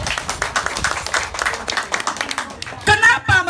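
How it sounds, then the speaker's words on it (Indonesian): An audience clapping at a founder's address for Hannas Group, with bursts of applause running through the clip and a loud voice breaking in near the end. "Kalau setuju tepuk tangan."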